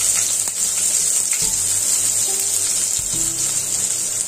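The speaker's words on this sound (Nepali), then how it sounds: "यसलाई फ्राई गर्छु अब जिरा फ्राई अब खोर्सानी थोरै लसुन" Cumin, chili, garlic and onion fry in hot oil for a home-cooked Nepali vegetarian meal, a steady loud sizzle with a few soft stirring knocks and no talk.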